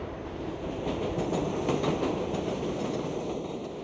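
An elevated train rumbles past with a steady, broad roar and faint clattering of wheels on rails, loud and continuous throughout.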